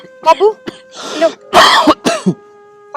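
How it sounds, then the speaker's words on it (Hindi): A few short, harsh coughs and throat-clearing bursts, close by, mixed in with voices talking around them. "बाबू मैंने आपकी खांसी की आवाज सुन गई"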